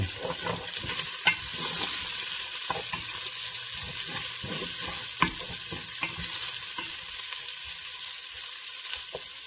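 Bacon browning in a pan with its grease, a steady crackling sizzle throughout, punctuated by occasional louder pops and stirring scrapes, close and with no one talking.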